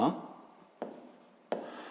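Pen or pencil writing by hand on paper during a sixth-grade maths lesson, with two short scratchy strokes standing out above quiet background hiss, close and fairly soft.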